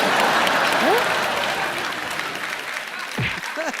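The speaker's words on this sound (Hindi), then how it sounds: "एक बार जोरदार तालियां हो जाए संजय लीला बंसाली के लिए।" Studio audience applause on a televised comedy roast show, a full steady wave of clapping that tapers slightly, with a voice briefly speaking over it near the end.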